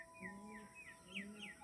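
Tournament racing pigeons give faint, repeated chirping calls over a low murmur, with a few short calls in quick succession and no voices.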